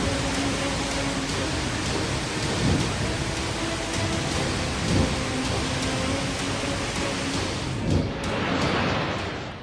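Heavy rain in Uttarakhand, a loud, constant downpour hissing over surfaces, with deep thunder rolling beneath it at intervals.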